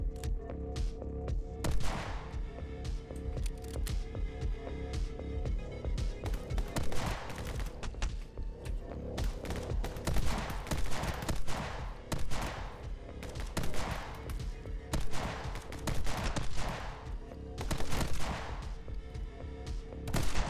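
Sniper rifle fire in the action shooter My Friend Pedro, rapid loud sharp shots cracking in irregular bursts over about twenty seconds, close and dense with brief gaps between volleys.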